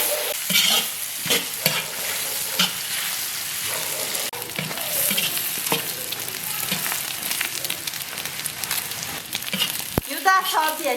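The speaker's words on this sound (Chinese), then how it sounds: "锅里多倒点油，油后下入葱姜蒜末、干辣椒、花椒、小米辣。 炒香以后下入牛大肠" Beef large intestine stir-frying in plenty of oil with scallion, ginger, garlic, dried chilies, Sichuan peppercorns and small hot chilies, a steady close sizzle with repeated scraping stirs of the spatula throughout.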